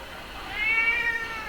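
A cat gives a single drawn-out meow, moderately close and fairly clear over a steady background hiss, with no one talking.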